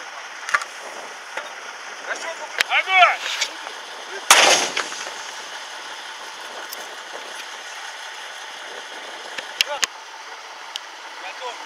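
A night artillery gun firing a high-explosive fragmentation round on charge four during a military exercise, heard as one sharp, loud blast followed by a decaying rumble, with faint clicks and shouted commands around it.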